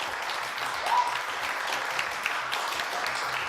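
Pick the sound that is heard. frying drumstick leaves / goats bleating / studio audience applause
studio audience applause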